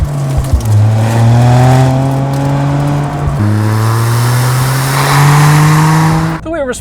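A Toyota GR Corolla engine revs hard and close, pitch climbing steadily through two long pulls with a shift between them, loud and dominant until it cuts off near the end.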